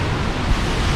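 Rough, violent ocean surf crashes near a cliff at Cilacap, Indonesia, heard as a loud, continuous close roar of churning water.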